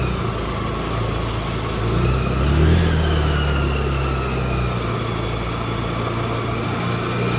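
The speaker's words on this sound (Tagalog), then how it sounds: "galitin mo lang ang makina" Car engine revved up briefly during a typhoon drive through floodwater, a rising then falling rev over a constant close engine drone and road or rain noise, with no talk.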